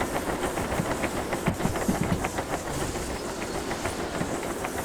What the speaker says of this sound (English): that's the steam releasing every now and then